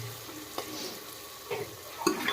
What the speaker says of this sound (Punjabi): ਤੜਕਾ ਦੇਖੋ ਹੀ ਕਿਦਾਂ ਬਣਿਆ ਠੀਕ ਹੈ